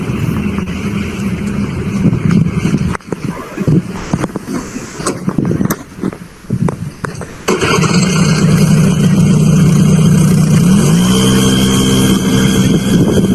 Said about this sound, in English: Now you can feel the power of an IC engine, which is known as the petrol engine.